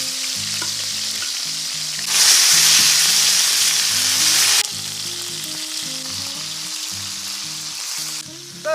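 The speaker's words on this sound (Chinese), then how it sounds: "把羊排的这一面也煎一煎。" Lamb chops sizzling steadily in a hot pan as the second side sears, with a louder burst of frying partway through and faint background music underneath.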